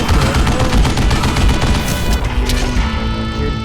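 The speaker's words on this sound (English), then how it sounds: "Kid Curry opened up on me with a goddamn Gatling gun" Rapid, sustained Gatling gun fire in the Western shooter Call of Juarez Gunslinger, a loud dense stream of shots with booming impacts that continues without a break.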